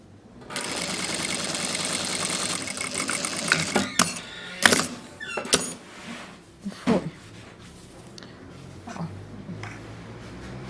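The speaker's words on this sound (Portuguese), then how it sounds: "Tô aqui costurando. Faço o retrocesso aqui também." Sewing machine stitching the seam of a dish towel, with backstitching at the start and end: a steady, close, rapid mechanical whir that runs continuously, then breaks into short stop-start bursts and clicks of the mechanism.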